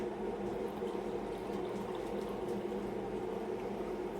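Hot coffee poured steadily from the carafe of a new drip coffee maker, a continuous close liquid stream that runs unbroken and alone for a few seconds.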